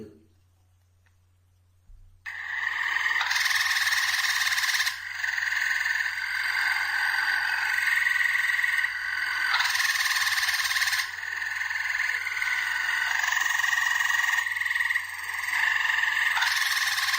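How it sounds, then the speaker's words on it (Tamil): A South American Hyla tree frog calls in loud, rapid, buzzing bursts that repeat steadily after a short quiet start, with a low hum underneath. "தென்னமெரிக்காவில் வாழும் ஒரு வகை தவளைகளான ஹைலா மரத்தவளை அதன் குரலொலியை கூட்டுவதற்காக"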